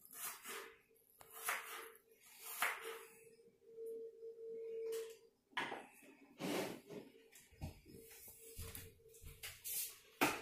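Irregular knocks and taps of a knife chopping an onion on a cutting board, with clinking kitchen sounds, close by and broken by short pauses.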